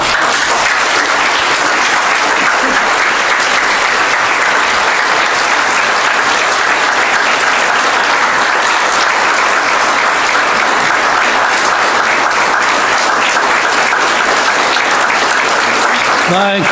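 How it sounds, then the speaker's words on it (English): Sustained applause from a church congregation at an alumni service, steady dense clapping filling the room for the whole stretch, with faint voices mixed underneath. "I started clapping myself"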